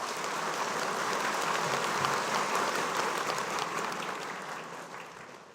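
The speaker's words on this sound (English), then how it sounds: "So a round of applause for everyone." An audience at a school debate competition gives a round of applause, a broad wash of clapping from a large crowd that holds steady and then slowly tapers off near the end.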